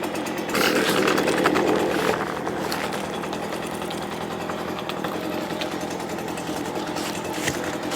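A Stihl BR200 backpack leaf blower's small two-stroke engine runs at a steady buzzing drone close by, revving louder at first and then settling into an even idle-to-mid throttle hum.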